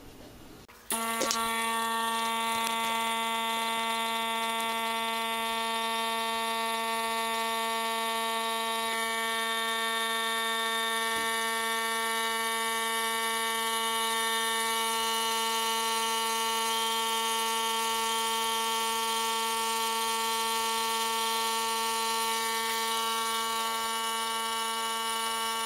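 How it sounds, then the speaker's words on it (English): An electric vacuum pump switches on abruptly while degassing Winexpert Eclipse Pinot Noir wine during racking after clearing, then runs steadily with a constant droning hum and a high whine, with no talking. "I'm going to hit my vacuum pump."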